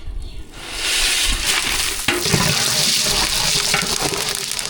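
Cinnamon sticks hit hot oil in a pan while tempering spices for chicken biryani, setting off a loud, continuous crackling sizzle that swells after a quiet start and carries on steadily, with a brief clatter partway through.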